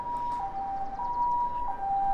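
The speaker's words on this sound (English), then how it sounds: "there's an ambulance quite noisily driving past" An ambulance siren passes outside a residential building, its wailing tone stepping up and down steadily, moderately loud and somewhat muffled, with no talking.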